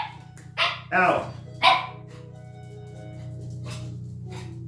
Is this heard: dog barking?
yes